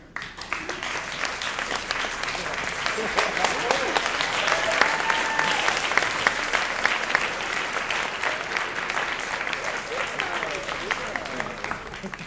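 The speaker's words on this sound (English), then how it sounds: "please stand up and give a round of applause for them" Gala audience applauding current and former scholarship winners at a journalists' association event, a dense sustained wash of many hands clapping in a large room, steady for the whole stretch with faint voices underneath.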